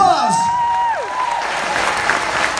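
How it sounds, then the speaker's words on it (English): A concert audience in a town hall applauds a young drum student, with broad crowd clapping rising under a sliding, sustained tone and a voice heard over it early on. "Give him a big round of applause"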